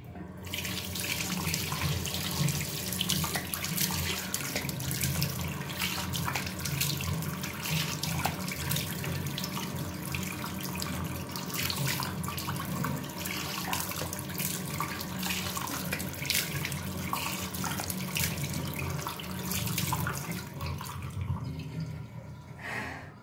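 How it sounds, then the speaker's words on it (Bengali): A tap runs steadily into a sink as a face mask is rinsed off, a continuous close rush of water with splashing variations throughout and no speech. "মাস্কটা লাগালাম আমি, 5-8 মিনিট রাখবে, কিন্তু আমি আর রাখলাম না, কারণ ভিডিওটা লং হয়ে যাবে, আমি ধুয়ে ফেলছি।"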